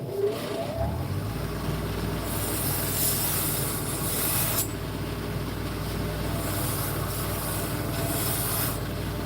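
A belt grinder running a blue Scotch-Brite belt, a loud, continuous motor whir with a rough abrasive hiss that grows brighter in bursts as metal is pressed to the belt, close by.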